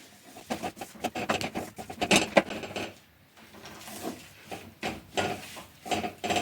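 Sugar syrup stirred bit by bit into a sesame and jaggery sweet mixture in a pan, producing irregular nearby scraping, rubbing and patting sounds with short pauses, soft throughout.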